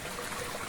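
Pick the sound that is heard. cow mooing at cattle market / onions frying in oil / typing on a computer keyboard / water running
water running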